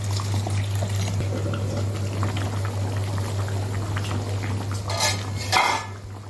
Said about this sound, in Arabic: بعد ما الكفته غلت معانا